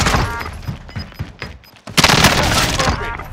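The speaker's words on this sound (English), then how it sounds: "They're shooting at me." Enemy gunfire in a video game, with gas inbound: scattered thumping shots, then a dense, loud burst of fire that fills the second half.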